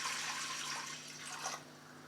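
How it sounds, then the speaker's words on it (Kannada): Water pours into a pressure cooker holding dal for avarekalu saaru, a steady splashing fill that runs close and fairly loud for about a second and a half before easing off. "ಸ್ವಲ್ಪ ನೀರು ಹಾಕೋತೀನಿ."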